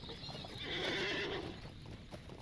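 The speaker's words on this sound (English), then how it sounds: "we're going to get on a horse" Horse neighing and whinnying alongside clip-clop hooves in the online game Lord of the Rings Online, with a loud whinny swelling in the middle over steady hoofbeats.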